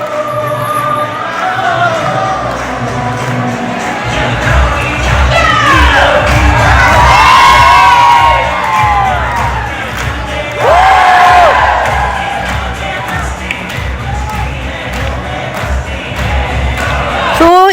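A large outdoor crowd, mostly Indian, cheers and shouts loudly at a Bollywood music event, with whoops and rising voices swelling and fading over a continuous roar.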